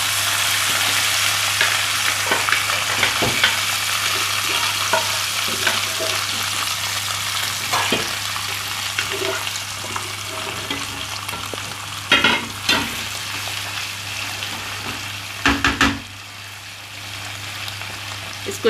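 Minced qeema fries steadily in a pan, giving a loud, continuous sizzle broken by the occasional scrape of stirring and a few sharper clatters, with no one talking.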